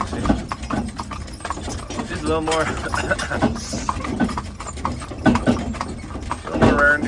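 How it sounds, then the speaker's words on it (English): A young Haflinger mare's hooves clip-clop steadily while pulling a wagon in winter, the rhythmic beats mixed with jingling harness and wagon noise as someone talks over them. "a young horse, she's a Haflinger"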